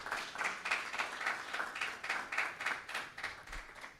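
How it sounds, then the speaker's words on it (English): Audience applause for a speaker after a business growth session: a room of people clapping in a continuous, fairly quiet and distant wash of claps with a pulsing, uneven rhythm. "Let's give him another round of applause,"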